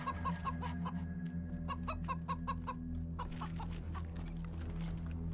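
Chickens in the video game Wasteland 3 cluck in quick repeated bursts, soft and somewhat distant over a steady low background hum, with no talk.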